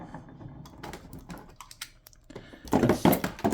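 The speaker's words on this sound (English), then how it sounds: "we'll cut some tape" Tape being cut and handled during the unboxing of a Sneaky Boise Sheepish Sapphire figure, heard as a run of quick rustles and snips, growing louder and denser toward the end, with no talking.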